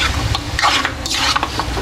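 Pork liempo frying in a pan, a steady sizzle broken by scraping and stirring clatter of a utensil against the pan, close and continuous with no talk.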